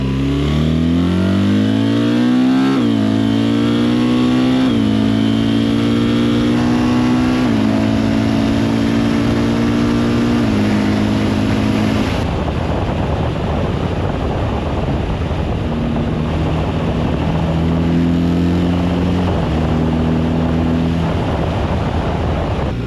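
A loud BMW R1300 RT motorcycle engine revs and climbs through several gears, pitch rising then dropping at each shift, with steady wind roar throughout.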